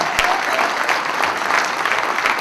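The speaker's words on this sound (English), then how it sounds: "Well, nice round of applause." Applause at a Brockton Rox hot stove baseball banquet, a dense steady round of clapping from the audience, close and fairly loud throughout.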